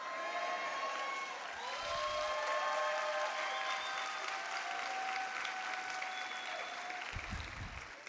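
A church congregation at a Sunday afternoon worship service claps steadily for the full length, a dense, even wash of applause with sustained tonal notes ringing faintly beneath it.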